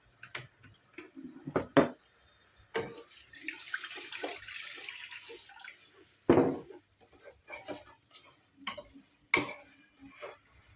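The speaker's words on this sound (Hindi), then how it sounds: "अभी इसमें पानी डाल दिए।" Water poured into a pot of fried rice and green peas (vatana) for a Konkani-style pulao, a steady splashing pour with a few sharp clanks of the pot nearby, no voices.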